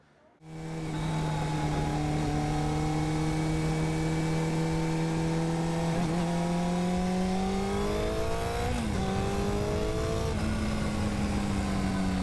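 A motorcycle engine starts up and idles, then revs repeatedly with rising and falling pitch, loud and close, with no other sounds.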